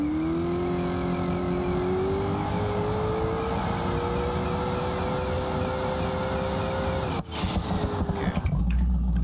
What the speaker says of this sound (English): the reason why it's revving so high off the line is because of the converter